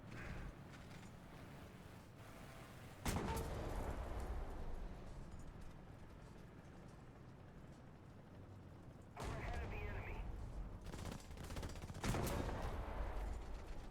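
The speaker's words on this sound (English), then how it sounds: "Just wanted to machine gun him so my team knows he's there." Machine gun fire in a tank battle video game, with several dense bursts and impacts over rumbling engine noise, while a player talks throughout.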